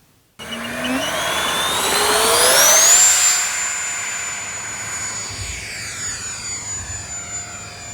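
An E-Flite Habu SS 70mm electric ducted-fan RC jet makes a pass: a loud, rising whine sweeps up in pitch, peaks as the model flies close, then settles into a steady high-pitched drone as it moves away.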